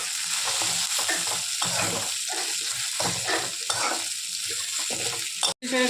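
Fish frying in a pan of oil, a loud continuous sizzle and crackle with bursts of spatter and occasional stirring scrapes, close up and without talk.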